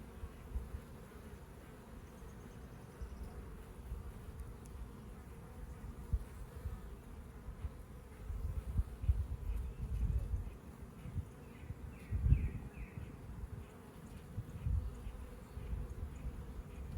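Bees from a swarm trap buzz in a steady, low droning hum, close and continuous, with the occasional louder pass of a bee near the end.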